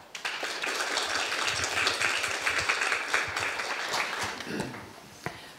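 A conference audience gives dense, sustained applause to welcome the speakers at a morning panel discussion in Latvia, a steady even roar that tapers off near the end.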